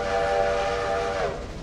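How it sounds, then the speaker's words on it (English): A steam-era locomotive whistle in the Railroader railroad simulation game sounds one long, loud, steady blast as the train approaches a station, then bends downward in pitch as it tails off at the end. "Technically calls for a whistle."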